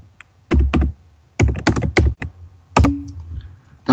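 Typing on a computer keyboard, several short bursts of crisp clicking keystrokes separated by brief pauses, close and fairly loud, with no talk over it.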